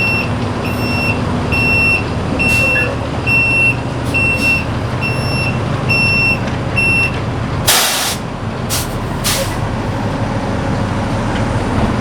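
A Freightliner box truck reverses with its backup alarm beeping in a regular, evenly spaced series over a loud, steady engine rumble, followed by a sharp burst of noise near the end.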